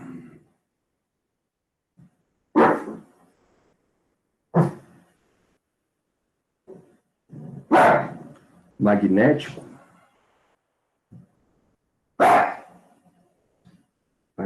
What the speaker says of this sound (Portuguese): Parece até que é bravo o cachorro